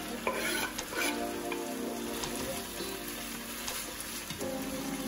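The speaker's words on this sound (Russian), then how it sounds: "Еще минутку обжариваю морковку." Carrots fry in a skillet with chicken fillet, giving a steady close sizzle broken by the scrapes and clacks of stirring, with no voices.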